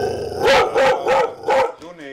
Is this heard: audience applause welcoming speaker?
no